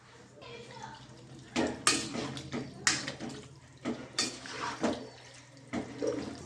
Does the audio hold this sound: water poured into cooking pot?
yes